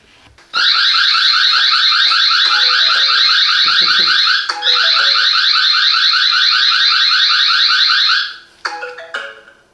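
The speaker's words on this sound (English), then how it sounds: "alarm on the camera" A eufy S300 eufyCam 3C security camera sounds its alarm, a loud, piercing, rapidly warbling electronic siren that runs steadily for about eight seconds with one brief break, then stops into a few faint beeps.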